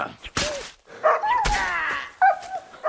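A dog in Kingdom Come: Deliverance 2 yelps and whimpers as it takes blows: a few sharp thuds, each followed by a short pained cry, spaced unevenly over a few seconds.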